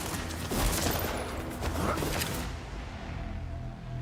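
Pistol shots crack in quick, repeated bursts during Arknights: Endfield combat, loud and close for the first couple of seconds before fading into quieter game ambience.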